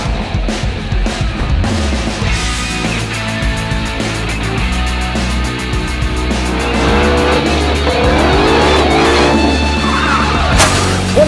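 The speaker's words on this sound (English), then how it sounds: "'20 Ford Mustang. Shelby GT500." A 2020 Ford Mustang Shelby GT500 drives through California canyon roads, its engine loud and close with a steady rumble and rising, falling revs throughout.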